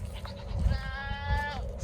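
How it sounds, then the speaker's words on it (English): Goats bleating on a farm at morning chores, one close wavering bleat standing out over fainter bleats and low rustling nearby. "Here's our goats"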